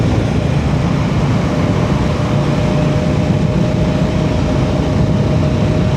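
A motorcycle rides through Dhaka at night under a steady, dense roar of engine and wind noise, continuous and unchanging throughout.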